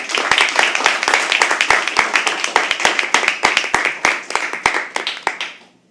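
Audience clapping at a live poetry open mic, with many sharp individual claps in a loose, steady patter that thins out and fades to silence near the end.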